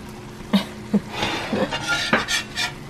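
Metal pans and utensils clink while an egg is cooked for breakfast, giving a few sharp, close knocks and scrapes at irregular moments over a low steady background.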